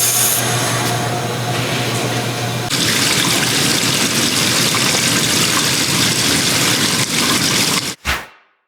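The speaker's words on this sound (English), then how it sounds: "we're simply just going to turn the water on, again, making sure that our valves remain open" Water gushes steadily through an RV black tank flush hose with the valves open, a loud continuous broadband rush with a low hum at first, ending abruptly in a brief sputter near the end.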